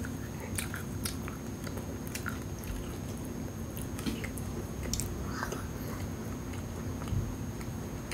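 Crisp bites and chewing on a macaron that is slightly soft with a cream-like filling, close and steady over a low background hum with small crunchy clicks scattered throughout.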